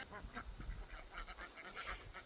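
White ducks and other ducks near a new pen ramp, giving a faint, busy chatter of quacks and honk-like calls that overlap unevenly in the distance, without speech.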